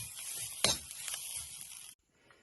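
Hot oil sizzles in a pan for tempering as finely chopped onion goes in, starting as a broad steady hiss, then a sharp loud burst of crackle, before it cuts off abruptly near the end.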